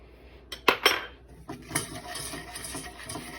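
A spoon stirring brown sugar in a hot pan, two sharp metallic clinks followed by softer scraping and tapping against the pan, close and brief.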